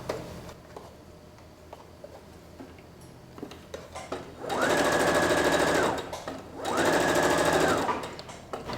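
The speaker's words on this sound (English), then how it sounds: "I'm going to move the needle a bit to the right to sew closer to the edge of the fabric" A sewing machine stitches along the edge of a piece of fabric in two steady, even bursts of close mechanical whirring, with a short pause between them and quiet room sound around them.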